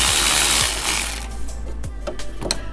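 A 10mm socket wrench ratchets on a nut behind the radiator of a Grand Caravan / Town & Country minivan, giving close, loud mechanical clicks that fade into a few scattered ratchet ticks and metallic taps.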